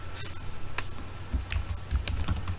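Fingers tap away at a computer keyboard in quick, uneven bursts of close, crisp keystrokes, with no voices over them.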